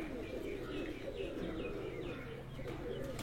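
Pigeons coo in a low, continuous murmur that runs steadily through the whole stretch at moderate distance, with soft chirps mixed in and a faint voice now and then.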